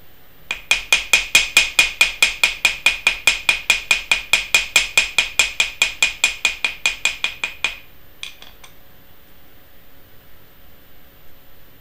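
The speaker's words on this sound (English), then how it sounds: "just a few simple hammering, it's already spreading really well" Hammer flattening wire paddles, a fast even series of about thirty sharp metallic taps, close and loud, then two stray knocks before quiet.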